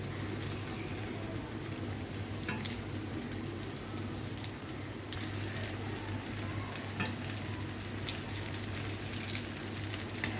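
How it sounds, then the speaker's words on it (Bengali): Lentil fritters frying in hot oil for a Bengali iftar dish, a steady dense sizzle with a faint low hum underneath, continuous and even throughout with no voices. "তো ঠিক আছে, এটা একটু ভেজে নিই।"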